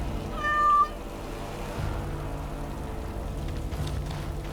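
A single short meow from a cat in the game Dragon Age: Origins - Awakening, clear and close, followed by quiet ambient hum.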